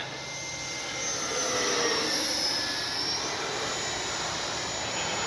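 An FMS Rafale 80mm EDF model jet roars steadily with a high whine, passing fairly close, swelling slightly then holding a loud, continuous rush.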